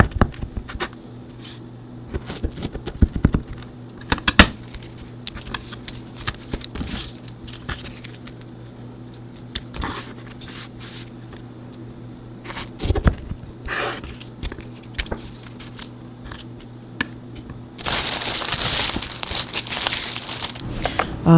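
Corn tortillas being cut into chip pieces for chilaquiles, heard up close as quiet, scattered crisp snips and soft crinkles, with a steadier rustling hiss near the end.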